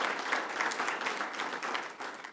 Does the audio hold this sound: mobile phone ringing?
no